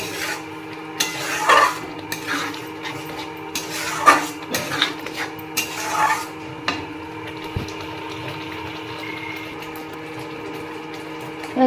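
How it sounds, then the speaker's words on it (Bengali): A spoon scrapes and stirs spinach paste in a cooking pan, with irregular scraping strokes and soft clinks over a steady background hum, and no talk. "এবার এটা নাড়াচাড়া করবো যতক্ষণ না এর থেকে তেল ছাড়িয়ে আসছে"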